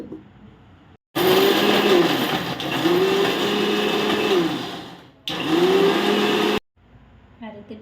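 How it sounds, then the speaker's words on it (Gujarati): Electric mixer grinder pulverizing fried muthiya for churma laddoo, a loud close whirring roar in two long bursts with a short stop between, its pitch dipping as the load shifts, with quieter moments before and after. "થોડો ઠંડો થાય એટલે મિક્સીમાં કે એને આપણે પીસી લેવાનું છે એકદમ"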